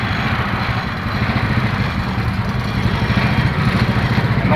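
A motorcycle engine being checked for faults idles close by with a steady, loud, pulsing rumble and a light mechanical clatter, running alone without talk.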